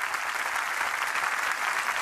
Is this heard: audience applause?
yes